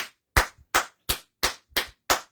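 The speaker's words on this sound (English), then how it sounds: "let me clap for myself" A single person claps hands six times at a steady, unhurried pace, each clap sharp and close, with brief silence between them during a political meeting.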